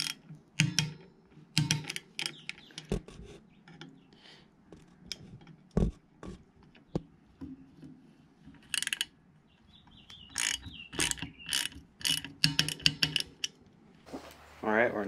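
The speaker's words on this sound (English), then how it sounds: "What's this device? It's a torque wrench. And it measures newton meters." A torque wrench ratchets in short clicking bursts while bike bolts are tightened during a Yeti SB5 mountain bike build, scattered irregular clicks up close with quiet gaps and handling noise.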